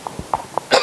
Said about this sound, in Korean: 기침이 나오냐?